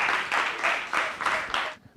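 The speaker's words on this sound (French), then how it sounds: "Sous vos applaudissements, s'il vous plaît." A brief burst of audience applause at a Christmas stage show, a few pulsing waves of clapping from a modest crowd that fades out after about two seconds.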